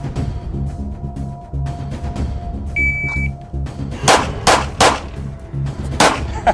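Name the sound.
gunshots fired in a timed shooting drill at a range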